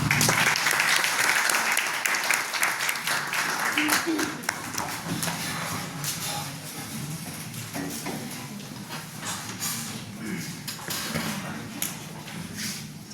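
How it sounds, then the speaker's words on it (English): A hall full of students gives sustained applause to welcome an alumna speaker, a thick wash of clapping that stays loud at first and then slowly softens, with faint voices and shuffling underneath. "Please join me in welcoming her with a round of applause."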